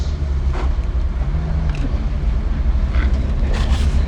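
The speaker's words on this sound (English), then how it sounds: "The soft skin vehicles getting out of the way here." Soft-skinned military vehicles driving away at a WW2 battle reenactment at Tank Fest 2024, a loud, steady low engine rumble with outdoor wind noise throughout.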